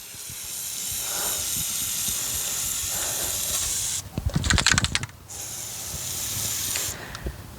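Spray grease from an aerosol can hissing onto a trailer hitch ball, a sharp close burst of about a second in the middle, with quieter rustling and background noise before and after, no speech.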